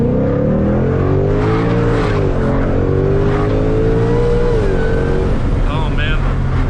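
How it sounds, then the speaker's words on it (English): A stock 2020 Shelby GT500 fitted with a JLT intake revs loudly from inside the cabin, its engine note climbing and holding in long sweeping pulls with a harsh, screaming tone, while traffic noise hums underneath. "Oh man, the car screams."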